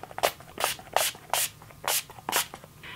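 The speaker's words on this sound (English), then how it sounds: "we're going to go ahead and set this foundation with the Makeup Finishing Spray" Makeup finishing setting spray misted over freshly applied foundation, about seven short, crisp hissing bursts in an even rhythm, close and fairly loud, with no talking.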